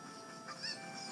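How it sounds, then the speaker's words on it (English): Faint chicken clucks from Zelda Ocarina of Time 3D sound in a brief burst amid quiet game background, a couple of soft squawks close together. "we're just gonna get all of her chickens and throw them in the coop."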